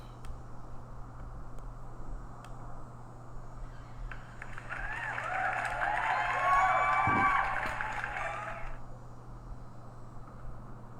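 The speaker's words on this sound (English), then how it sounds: "Let me give you guys a round of applause." Canned round-of-applause sound effect, a faint cheering crowd that swells to a peak in the middle and fades out over several seconds beneath a low steady hum.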